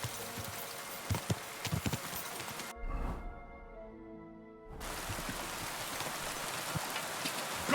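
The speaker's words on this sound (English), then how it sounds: "it's raining so much" Heavy rain pours in a medieval open-world game, a dense steady hiss that cuts out briefly midway before returning at full strength.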